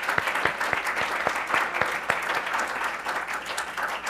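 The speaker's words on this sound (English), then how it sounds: "I think we need to give a round of applause to Cedar Ranshaw Nielsen and Mary Ward" At a conference panel session, the audience delivers a round of applause: many hands clapping in a busy, steady patter with a few sharper individual claps standing out, filling the room without speech.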